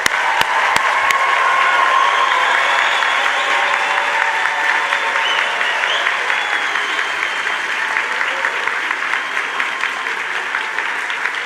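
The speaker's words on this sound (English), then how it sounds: "please, let's join me in applause and congratulating all our graduates today" A commencement ceremony audience applauds graduates with loud, sustained clapping from a large crowd, dense and steady throughout after a few sharp claps at the start.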